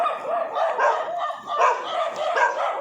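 Several dogs bark and yip close by in quick, overlapping bursts, with a few whimpering notes mixed in.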